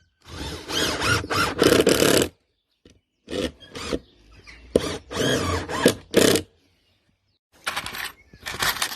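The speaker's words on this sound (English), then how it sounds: "You've pre-drilled them, Mark?" A power drill bores pilot holes in wood for a simple wooden garden tool holder, sounding as several loud whirring bursts of one to two seconds each, separated by short pauses, close by with no talk.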